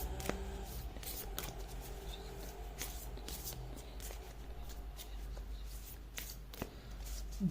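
Tarot cards being shuffled and drawn by hand, a steady run of soft papery riffles and flicks with sharper card snaps, close and fairly quiet over a faint background hum.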